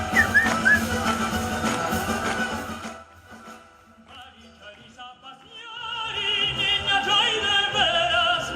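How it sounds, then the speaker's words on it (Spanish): A man whistles a melodic line in a Quechua-language rendition of the Andean song Valicha, the clear whistled tones rising out of music and voice and growing fuller and louder toward the end. "Se pone a silbar"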